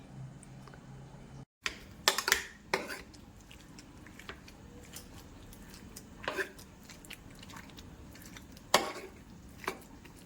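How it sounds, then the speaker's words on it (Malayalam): Cooked tapioca being mashed in a pot in a home kitchen, soft squelching pushes with sharp utensil clinks against the pot at irregular intervals, close and fairly quiet. "ഇനി നമുക്ക് ഈ കപ്പ ഒന്ന് ഉടച്ചെടുക്കാം"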